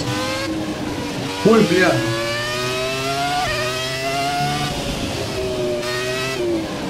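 Formula 1 race car engine in the F1 2017 racing game, a steady high whine rising and shifting through gears with a brief screech burst, under a man's short exclamation.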